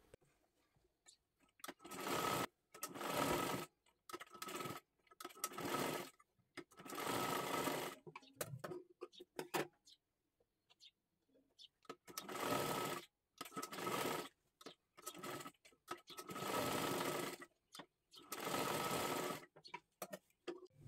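A sewing machine stitches double seams on a kathpadar saree, running in repeated loud bursts of steady whirring with short pauses between runs and a longer gap midway.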